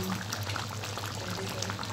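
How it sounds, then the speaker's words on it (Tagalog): Lechon paksiw with Mang Tomas sauce bubbling in a pot, a steady close simmering hiss with soft popping throughout, low hum underneath. "kumukulo na siya"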